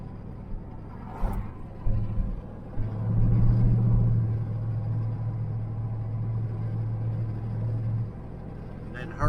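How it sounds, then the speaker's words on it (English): A 1978 El Camino SS does a burnout on dry pavement, a sustained, moderately loud engine roar building after a brief pause and holding steady for several seconds before easing off. "Gonna do one more burnout on the dry stuff."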